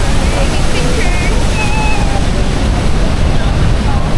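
Niagara Falls thundering from up close behind the falls: a loud, unbroken roar of crashing water with buffeting wind noise throughout.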